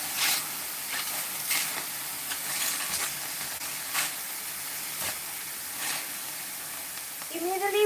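Chanterelle mushrooms frying in a hot pan give a steady broadband sizzle and hiss throughout, with a few brief louder bursts along the way.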